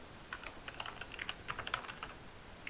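Rapid, uneven keystrokes on a computer keyboard, light clicking taps clustered in short bursts, close and fairly quiet with no talking.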